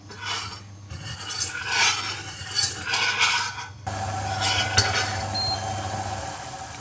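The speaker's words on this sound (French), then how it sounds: "Faire chauffer jusqu'à ébullition le sucre, le rhum et ajouter le verre d'eau." A pot of sugar, rum and water heating on the stove, giving a soft bubbling hiss with faint scraping and clinks, close and steady with no talking.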